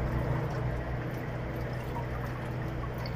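Engine oil draining from the underside of a 2022 Forthing T5 EVO during an oil change, a steady continuous pouring trickle with no talk.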